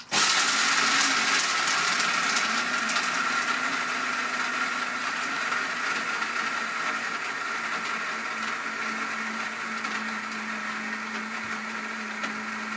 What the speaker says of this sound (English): And we put it all in a coffee grinder